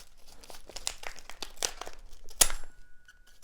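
Paper crinkling and tearing as a credit card envelope is ripped open with an oversized metal fork, a series of close, uneven rustles building to one sharp tear, then a brief faint ring.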